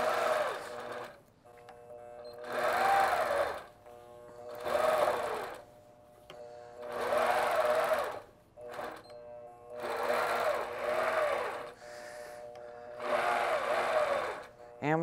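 A longarm quilting machine stitches along a ruler in repeated bursts of rapid mechanical whirring, each lasting one to two seconds and separated by short pauses, with a voice talking at times.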